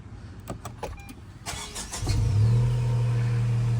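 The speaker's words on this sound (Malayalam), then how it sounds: "ചെറുതായിട്ട് എക്സോസ് നോട്ട് ഉണ്ട്, അടിപൊളിയല്ലേ" A Tata Altroz Racer engine catches after a few clicks and settles into a steady, low exhaust drone, close and fairly loud with no talk.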